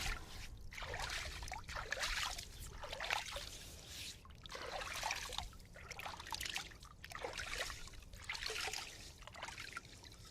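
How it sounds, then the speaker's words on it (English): Water at a beach stream is scooped and poured over a body to rinse off, giving repeated splashing pours roughly every second or two with faint trickling between, close but quiet. "I'm just scooping it onto myself to rinse off"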